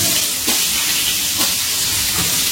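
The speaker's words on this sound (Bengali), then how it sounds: "এবার এই তেলের মধ্যে আমি আলুগুলো ভেজে নেব।" Parboiled potato pieces frying in hot oil for a Bengali cauliflower and potato dish, a steady loud close sizzle and hiss with faint stirring, no voices.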